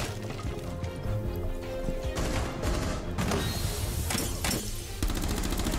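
Gunfire in Rainbow Six Siege, heard as rapid overlapping shots, impacts and crashes in a dense, loud stream with bursts of sharper cracks near the end, and no talk.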